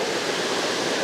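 A waterfall roars as a dense, continuous wash of broadband rushing water, steady and close, with no voices over it.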